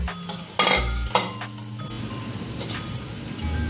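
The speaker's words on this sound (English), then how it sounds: "deep frying is very amazing to the ears" Hot oil sizzles and crackles steadily as sabudana vada deep-fry, with a few sharp scraping clatters of a utensil against the pan near the start.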